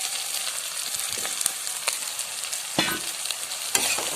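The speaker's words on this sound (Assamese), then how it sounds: "এতিয়া মাংস ফ্ৰাই সিজিবলৈ আৰম্ভ কৰিছে" Chicken pieces and fried potatoes sizzle loudly in a pan, a steady dense hiss with occasional spatters and stirring clicks, close and continuous.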